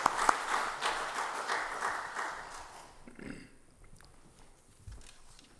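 Applause from an audience at a church book-launch celebration welcoming an elder to the stage, fairly dense clapping for about three seconds that then thins out to a few scattered claps.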